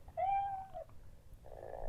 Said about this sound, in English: he will purr for that as well and meow